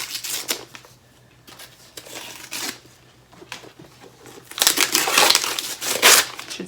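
Bursts of crinkly Christmas wrapping paper crumpling and rustling, quiet at first then growing louder and busier toward the end, close by with no talking.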